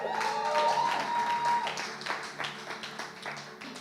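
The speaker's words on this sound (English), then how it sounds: "I want you first to give a round of applause to all the preachers tonight" A church audience claps for the preachers at an evening service, a short burst of dense applause that starts loud and thins into scattered claps, with a brief tone under the start.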